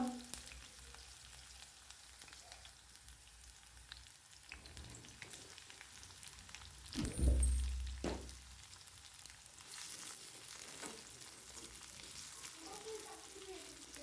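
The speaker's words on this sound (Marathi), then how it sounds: "मी कांदा पण टाकून दिलेला आहे आणि कांदा पण छान तेलावर परतून घ्यायचा आहे आपल्याला" Onion, green chili and garlic sautéing in hot oil for a spicy okra dish, a soft continuous sizzle close by, with one brief thump of stirring midway and the frying swelling slightly afterward.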